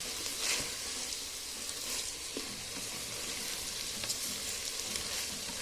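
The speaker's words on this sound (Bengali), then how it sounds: "সবজিগুলোর সঙ্গে চালটা একটু ভেজে নিতে হয়।" Rice and vegetables fry in a mix of ghee and oil inside a rice cooker, giving a steady, close sizzle with scattered crackles and occasional scraping stirs throughout.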